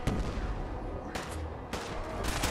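An M79 grenade launcher weapon mod in a video game fires three sharp, loud reports in about two and a half seconds. Each shot has a short decaying tail, with no talking.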